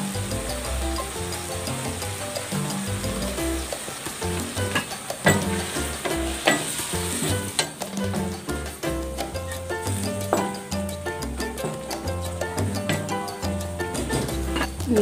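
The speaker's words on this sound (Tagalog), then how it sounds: "Lagay na rin natin tong mga dulo ng Chinese cabbage kasi matagal maluto" Chinese cabbage stems sizzle in a pan while pancit canton guisado is stir-fried, a continuous crackling fry under busy scraping and tapping of a utensil, close and fairly loud, with no talk.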